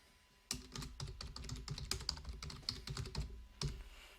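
Close-up typing on a computer keyboard, quick irregular keystrokes starting after a brief pause, with sharp clacks standing out.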